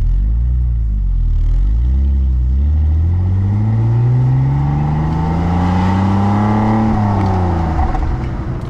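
A BMW E46 320Ci with a 2.2 litre 170 horsepower six-cylinder engine, heard loud and close from inside as it accelerates steadily through the revs with a low droning rumble, then shifts gear.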